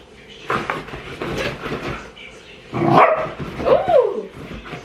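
A pet dog in a home barks and yips in close, energetic bursts while playing, with someone talking around the barks.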